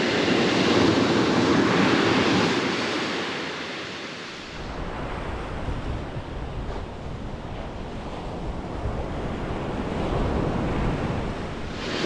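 Surf breaks on a beach at night as wind buffets the microphone. A loud roaring wash fills the first seconds, then eases into a steadier rumble of waves with gusting wind, and no one speaks.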